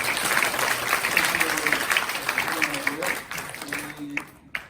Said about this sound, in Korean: 우리 신입생들 우리 환영의 박수 한번 하도록 하겠습니다